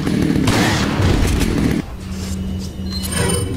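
Shotgun blasts in a modded Resident Evil 4 game boom in a dense, heavy burst followed by lower rumbling game sounds, loud and close with no clear talk.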